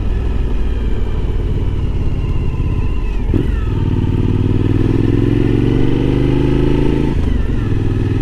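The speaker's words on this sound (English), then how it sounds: "this is kind of riding I like to do right here" A motorcycle rides a quiet mountain road toward Pigeon Forge, Tennessee, its engine droning loud and close with a steady rumble, and a gear change midway is followed by the pitch climbing again as it accelerates.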